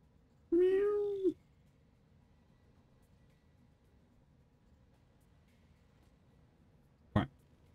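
A house cat gives one clear, close meow with a rising and falling pitch, followed by several seconds of quiet and then a brief, sharp sound near the end.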